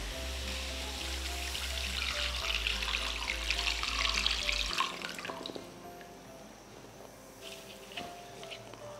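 Water poured into a pot of chicken, garlic, ginger, onion, whole coriander, fennel, garam masala and salt for chicken yakhni, a splashing stream for several seconds that stops, followed by faint kitchen sounds and a low hum.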